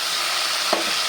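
Tomatoes frying in a pan with garlic, onion and green chili, a steady bright sizzle throughout with a brief stir near the end.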